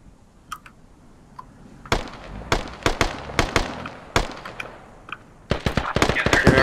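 Gunfire in the video game Squad: a few faint distant pops, then a run of loud, sharp, close shots in irregular bursts with short gaps, ending in a dense rapid volley.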